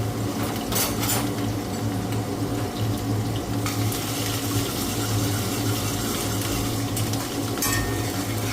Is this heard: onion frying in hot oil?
yes